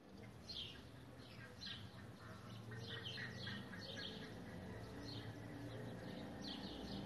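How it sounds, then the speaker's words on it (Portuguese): Small birds sing outdoors on a cold day: faint, distant chirps repeat in scattered bursts over a steady low background hum, with no one talking. "Os passarinhos estão cantando até mole lá fora de frio"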